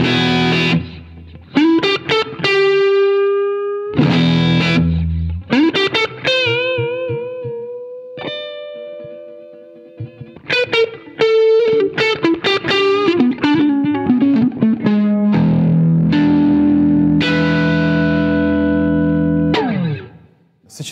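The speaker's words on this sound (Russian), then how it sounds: "NEC-овый звукосниматель дает очень богатый звук на перегрузе." An Epiphone electric guitar with active humbucker pickups plays through heavy overdrive: loud, distorted single notes, bends and ringing chords in phrases separated by short pauses, with no voices.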